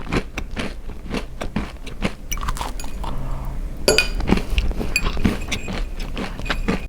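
Crunchy bread, a baked diet loaf, bitten and chewed close to the mic, with a steady run of sharp crisp crunches and a few louder bites, alone without talk.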